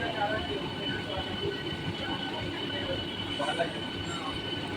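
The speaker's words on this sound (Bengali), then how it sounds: "দেখেন লাইন দিয়ে বেরিয়ে যাচ্ছে হাওড়া বেলুর মাঠ লোকাল" A Howrah–Belur Math local train departs along the line, a steady rolling rumble of wheels and carriages with faint squeals, heard from nearby as people talk in the background.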